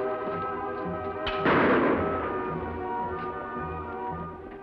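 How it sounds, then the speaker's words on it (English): A single pistol shot on an old Western radio drama cracks out as one short, muffled burst, set against a steady musical background that continues before and after. "Pistol shots, Kemo Sabe."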